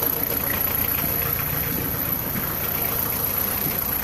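A cold VW T3 van engine idles steadily and close by, a low, even running rumble with a faint knocking texture that holds unchanged for the whole stretch, with no voices.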